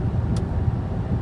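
A 2018 Toyota Camry SE rounding a corner, its steady low engine and road rumble filling the cabin with a brief faint hiss partway through.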